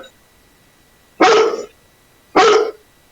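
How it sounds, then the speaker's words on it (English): A dog gives two loud, close barks about a second apart against a quiet background, no talking. "He's barking."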